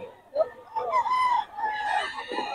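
A young stag rooster crows once up close, a loud strained call broken into rising and falling segments, with faint background noise.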